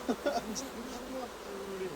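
Honey bees buzzing around beehives at an urban apiary in Ivry, a soft, brief hum with a few faint higher tones over quiet background.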